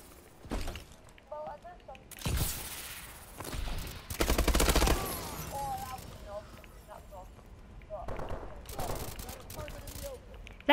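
Video game gunfire rings out in several sharp bursts and volleys, some loud and rattling, others shorter, scattered among talk and other game sounds.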